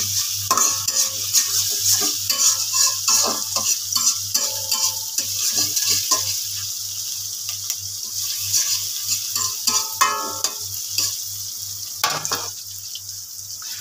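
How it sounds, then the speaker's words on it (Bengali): Onions and chilies frying in a pan for noodles, a steady close sizzle broken up by repeated scraping and stirring strokes of a utensil against the pan, with no talking. "প্রথমে পেঁয়াজ মরিচ ভেজে নিব।"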